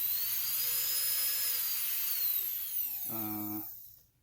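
A Marathon K35 micro motor rotary tool whines at high speed with a steady, piercing tone that shifts slightly in pitch, then winds down briefly before cutting off near the end.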